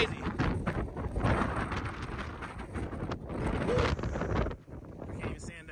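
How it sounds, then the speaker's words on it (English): Strong gusty wind buffets the microphone at a remote slope where radio-controlled gliders fly dynamic soaring runs, a loud continuous roar that swells and dips, with a person shouting over it. "The wind on this side is just, the wind on this side is crazy."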